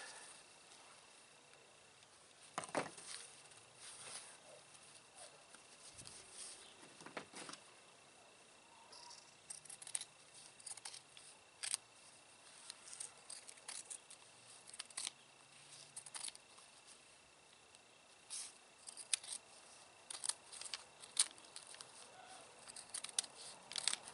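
Scissors snipping through fabric while pieces of a handmade capote and frock skirting are cut, giving a series of short, crisp clicks and snips scattered irregularly across the stretch, fairly quiet and close, with no talking.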